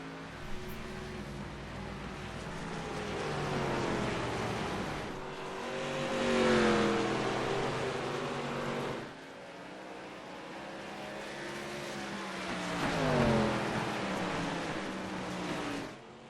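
Race cars lap the Richmond oval in the iRacing sim, engines droning with two rising-and-falling passes as the pack sweeps by, steady and fairly loud with no voices.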